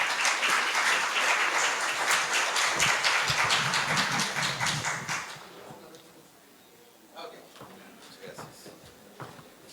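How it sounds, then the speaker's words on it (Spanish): At a health-system alumni event, an audience applauds Dr. Víctor Zamora with loud, dense clapping for about five seconds, then it fades to scattered shuffling and a few faint claps. "Fuerte el aplauso para él."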